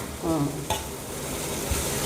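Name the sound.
sizzling tempering (phodni) in a pan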